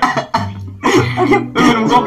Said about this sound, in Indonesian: Minum kopi batuk.